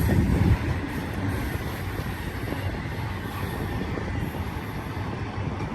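A train rolls past near a rail switch, giving a steady loud rumble and clatter of wheels on track that runs the whole stretch with no voices.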